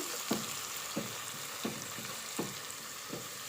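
Onions sautéing in a pot for chicken madhooth, with a steady low sizzle and a stirring scrape roughly every half to three-quarter second, fairly quiet and close, no voices.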